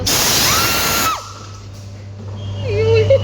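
A loud, close hiss of spray hitting faces on a train blasts for about a second and cuts off abruptly, leaving a low hum and a voice crying out.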